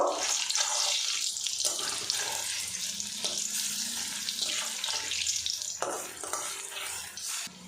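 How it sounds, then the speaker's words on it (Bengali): Papaya and mung dal fritters frying in hot oil while being turned, a steady bright crackling hiss with scraping stirs, close and continuous, no talking. "বড়াগুলো উল্টে পাল্টে আমি ভেজে নিয়েছি।"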